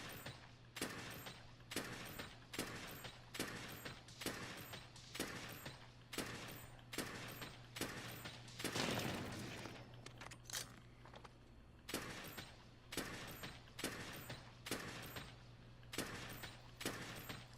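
Heavy bowgun fire from Monster Hunter World: sharp, loud shots repeat in a quick, regular rhythm, a long run of rounds with one short pause partway through and a low mechanical hum beneath, no talking.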